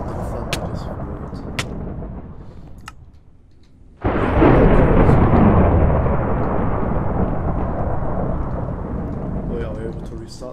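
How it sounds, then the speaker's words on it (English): Minecraft thunder cracks in abruptly after a brief lull, then rolls on as a loud, sustained rumble that slowly fades over several seconds. "Oh, random thunder just rolled."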